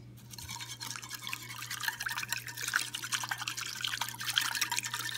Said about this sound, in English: now we just gotta whisk this all together